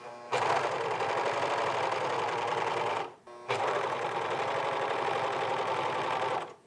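Sewing machine stitching curling jersey knit fabric, a steady close whirring run that stops briefly partway through, then resumes at the same even pace.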